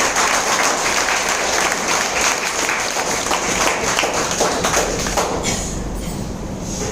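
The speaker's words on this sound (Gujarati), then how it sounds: "એમના અને જયસુખભાઈ માટે આપણે જોરદાર તાળીઓ લઈએ" Audience applause fills a hotel hall at a business sharing event, loud sustained clapping from a large crowd that continues throughout and eases slightly near the end.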